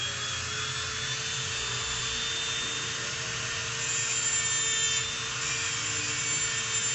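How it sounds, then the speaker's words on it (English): A Dremel rotary tool with a grinding bit shaving down a metal e-clip from an RC shock absorber, giving a steady, high-pitched whine and rasp that stays even throughout, with no talking. "take your rotary tool, Dremel, something like that, a grinding bit."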